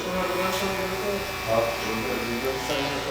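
A cordless outliner hair trimmer cuts a man's hair during a barbershop haircut, giving a steady electric buzz that runs throughout at close range alongside a background hum.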